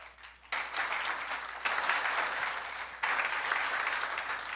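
A church congregation claps together in a fairly reverberant room, the applause starting abruptly and surging in two further waves, sustained and moderately distant with no speech over it.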